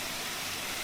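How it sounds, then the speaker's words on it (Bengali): Water splashing from a decorative fountain on a lit rooftop water garden, a steady broadband wash with no breaks, faint and close throughout the short stretch. "সেই ঝর্ণার বিখ্যাত কুলুকুলু ধ্বনি"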